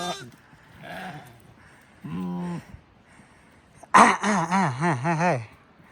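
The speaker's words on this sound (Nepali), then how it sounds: "भेडाहरू सबै बासा बस्ने तर्खरमा छन् है" Sheep bleat near their night shelter: a short quavering bleat, then a louder, longer wavering one close by, with faint background sounds between.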